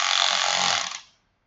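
A ratchet wrench runs down engine bolts on a Subaru engine: one brief, close burst of rapid clicking that cuts off abruptly.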